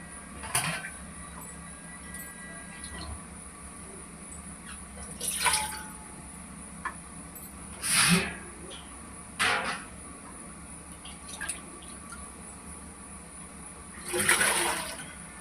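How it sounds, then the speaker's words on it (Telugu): Water is poured into a pot on the stove for cooking basmati rice, arriving in several short splashing bursts separated by quieter stretches, with faint drips and a kitchen hum between them. "స్టవ్ ఆన్ చేసి ఒక గిన్నె పెట్టుకొని వాటర్ పోసుకుందాం"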